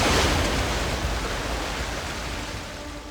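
Ocean waves at sea: a broad, continuous wash of surf, moderately loud and gradually easing, with no voices.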